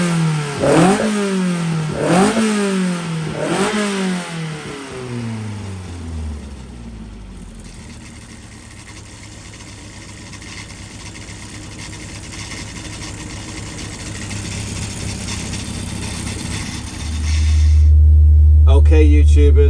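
A Stealth 1200cc engine with rebuilt Dell'Orto carburettors runs on a dyno: three sharp revs climb and fall quickly, then it settles to a steady idle before a loud, deep rumble swells at the end.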